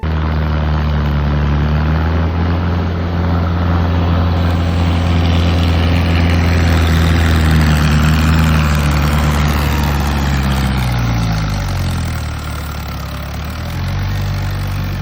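A Tochan King tractor engine runs loud and close, hauling a sugarcane cart. A steady low drone shifts pitch as the revs dip and recover near the end.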